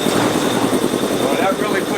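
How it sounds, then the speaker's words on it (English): A dual-engine air compressor in a workshop that also powers a sandblaster and glass beading machines, running as a steady, close, loud mechanical drone with a throbbing pulse and no talk over it. "I got 4 compressors in here."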